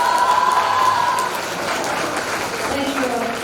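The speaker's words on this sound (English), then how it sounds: "Please, everyone, give them a very big round of applause." A graduation-ceremony audience applauds the Triyog SEE batch 2078, class of 2022. Steady, fairly loud clapping fills the hall for several seconds, with a voice and a ringing tone over it.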